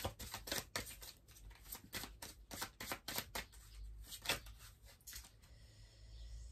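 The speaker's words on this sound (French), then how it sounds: "Alors, on va prendre à la coupe quelques cartes de l'oracle de la fée Laura." A deck of fairy oracle cards is cut and shuffled by hand, close up, with a rapid series of crisp riffling and slapping bursts that ease off into a quieter shuffle at the end.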